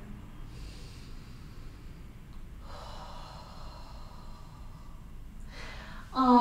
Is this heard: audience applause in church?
no